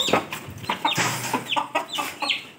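Ayam Cemani breeder chickens cluck and chatter close by in a short, busy run of overlapping calls with a steady background hiss.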